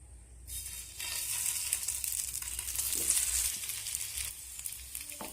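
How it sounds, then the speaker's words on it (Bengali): Tiffin pieces shallow-fry in a frying pan with just a little refined oil spread around. A soft, steady sizzle continues throughout, close but quiet, with faint stirring. "এই নামমাত্র তেলেই আমি ওগুলোকে ভেজে নেবো"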